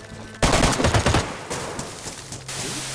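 Rapid bursts of automatic gunfire in the video game DayZ crackle loudly in quick succession, then fade into quieter scattered shots and a low hum.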